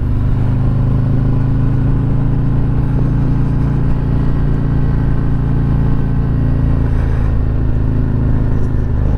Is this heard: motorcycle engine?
yes